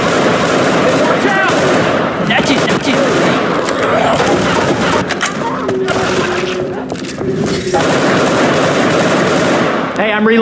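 Sustained automatic gunfire in the zombie shooter Left 4 Dead 2 rattles loudly and continuously through the whole stretch, dense overlapping shots mixed with game noise and chaos.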